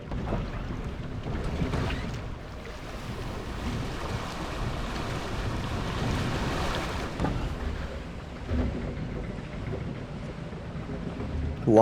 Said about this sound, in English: Log flume with a pre-drop.